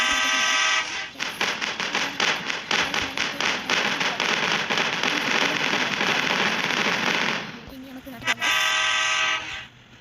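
Loud, close rumble and rhythmic clatter of a moving train, steady and pulsing, easing briefly before picking up again.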